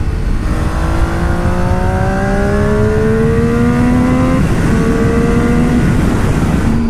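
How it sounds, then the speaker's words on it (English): A motorcycle ridden through hilly country, its engine note climbing steadily under acceleration before one clear upshift midway, then pulling again, loud and close throughout. "me riding the bike through the hills"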